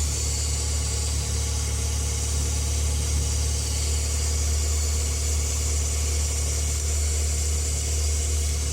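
Renault Laguna engine idling steadily after a serpentine belt replacement, a constant low hum with an even mechanical whir, close and uninterrupted, with no one talking.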